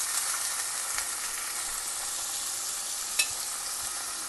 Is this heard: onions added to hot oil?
yes